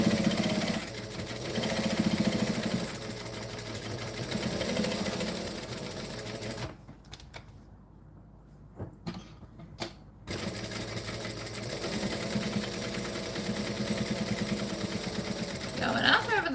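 A domestic sewing machine stitching steadily in a close, continuous mechanical whir, pausing briefly partway through before running again, with people chatting faintly in the background.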